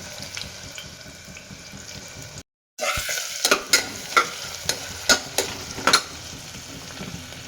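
Onions frying in oil for biryani, a soft steady sizzle followed after a short gap by a run of sharp metallic spoon scrapes and stirs against the pan, close and alone.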